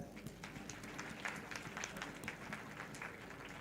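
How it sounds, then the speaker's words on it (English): Conference audience applauding at the Africa MICE Summit 2025: a faint, sustained patter of many hands clapping, fairly distant and continuous for several seconds. "Let's give another hand of a Nairobi warm applause for all the event partners."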